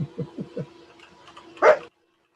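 A dog gives a few quick, low barks in a row, then one sharper, louder bark after a short pause, all close and with no talking over them.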